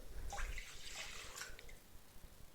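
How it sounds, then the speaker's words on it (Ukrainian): Warm water and then warm milk pour into a bowl as dough for khachapuri is started, a quiet, close liquid splash and trickle lasting about a second before fading into soft background. "Нам потрібна тепла вода, також додати до води тепле молоко."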